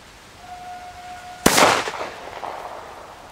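An old friction-ignited firecracker goes off like a cannon salute: a short fuse hiss, then one sharp, very loud bang that rolls away in a booming echo outdoors.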